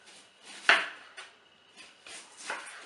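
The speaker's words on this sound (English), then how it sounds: "I'm gonna start from cutting onions." A knife chops onions on a board for a carp and salmon fish pie, a few sharp, close knocks spaced unevenly, the strongest near the start, with quiet gaps between.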